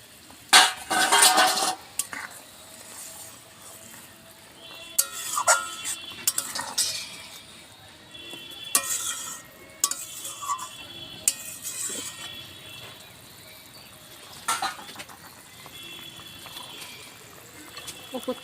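Fried bata fish tipped into a simmering cumin-paste curry and stirred, with intermittent close metal clanks and scrapes of a spatula against the pan, separated by quieter stretches.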